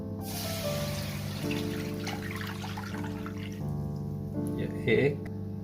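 Water poured into a cooking pot for a batch of rice, a steady trickling stream running for several seconds under a faint tonal hum, with a brief louder splash near the end.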